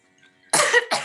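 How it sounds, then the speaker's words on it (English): Two sharp coughs from a young girl, Kitty, on stage in a live youth theatre production of Pride & Prejudice, close and loud after a brief quiet moment. "Do stop coughing so"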